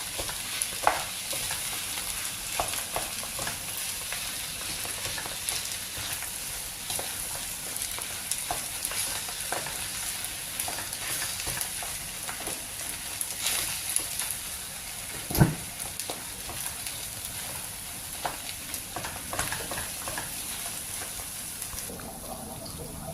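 Biko sticky rice cake being stirred in a pan, steady wet scraping and soft sizzling with irregular scrapes and one sharper knock, close and continuous without talk.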